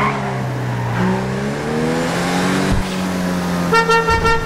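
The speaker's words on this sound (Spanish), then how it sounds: "La bocina está dura." Car horn honking in a GTA RP video game, with engine drone and tonal sweeps first, then a run of short, sharp horn blasts near the end, loud and close.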